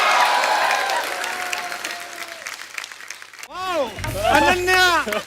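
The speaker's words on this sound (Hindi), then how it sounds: "अनन्या, धैर्य और सिद्धांत चतुर्वेदी के लिए जोरदार तालियां।" Studio audience on a comedy talk show bursts into applause, a dense wash of clapping that swells and fades, with a voice speaking over the start and music rising near the end.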